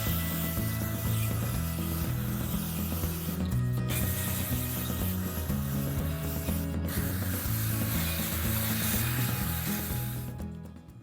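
A rotary sanding disc buffs a cloudy car headlight lens, giving a steady, loud whirring drone with a rough scrubbing texture that holds for about ten seconds before easing off, with brief dips where the tool is lifted.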